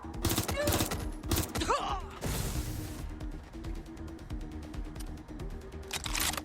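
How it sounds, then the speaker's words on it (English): Gunfire in the Watch Dogs Legion video game: several sharp broadband bursts of shots in quick succession, fairly loud and close, layered over game music and effects. "They're shooting at us."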